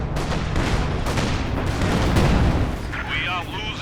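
ZiS artillery barrage in a Company of Heroes 2 match, deep booming impacts and rumbling blasts rolling over one another continuously, with a high whistling sound near the end.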